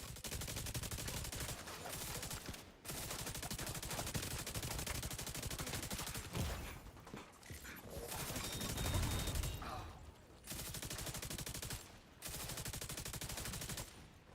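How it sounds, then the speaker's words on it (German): Sustained automatic gunfire from The Division 2, dense bursts of rapid shots with brief pauses between volleys, loud and continuous with no talk over it. "ich schieße einmal ein wenig"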